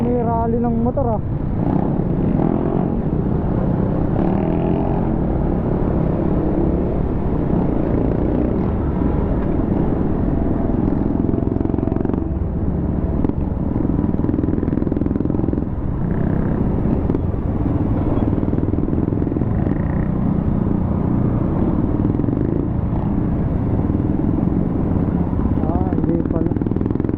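Motorcycles and other vehicles pass continuously in congested traffic on a road, a steady dense engine drone throughout with people talking over it.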